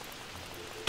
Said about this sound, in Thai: ฝนตกเข้าบ้านเดี๋ยวไม่สบาย